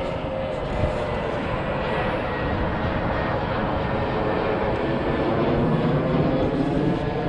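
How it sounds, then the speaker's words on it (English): Airplane flying overhead near Kolkata airport, a steady, loud, broad engine roar that fills the whole stretch without fading. "You can see the flight going."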